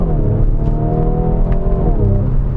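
Engine and exhaust note of a Hyundai Veloster Custom Fit Extreme Driving Edition under way, a loud, steady, close rumble with a smooth rising and falling drone as the revs shift, with no talk over it.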